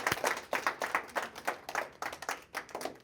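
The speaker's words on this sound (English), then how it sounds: "So give her a round of applause for that." A small audience applauds, with dense, uneven hand claps that rise and fall in bursts for about three seconds, fairly close and moderately loud.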